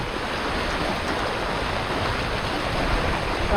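Floodwater rushes past after sudden heavy rain in the Konkan region, a continuous broad roar of churning water that holds close and steady throughout.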